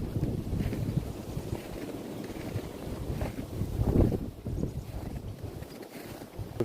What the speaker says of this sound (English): The wind is like picking up right now.